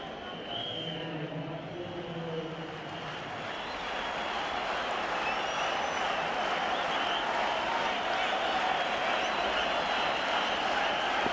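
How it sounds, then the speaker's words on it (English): Crowd at a cricket stadium during a World Cup semi-final between Sri Lanka and Australia, a broad, sustained roar of applause and cheering that swells and holds, with commentary audible beneath it. "Crowd on their feet."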